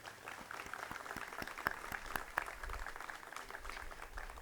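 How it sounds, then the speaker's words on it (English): Applause from an audience at a 2019 September 11 remembrance ceremony, a faint patter of scattered clapping that lasts a few seconds with no one speaking. "Let's give them a round of applause."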